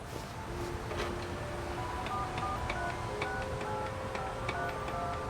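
A phone number being dialed in the video game 13 Sentinels: Aegis Rim, a quick run of short electronic key tones one after another over a faint steady background hum, with no talking.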